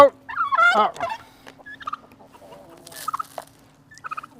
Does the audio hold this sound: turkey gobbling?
yes